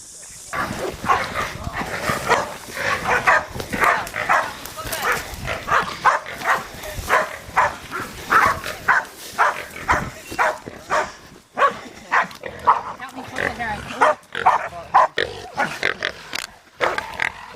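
Hunting dogs bark and yelp at wild pigs in a rapid, repeated burst, with pig squealing and grunting mixed in, plus occasional voices underneath, continuing throughout.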